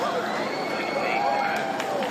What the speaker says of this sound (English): Just listening to the crowds there on the Mall.